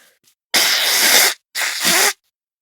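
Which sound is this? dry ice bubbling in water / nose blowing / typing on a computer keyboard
nose blowing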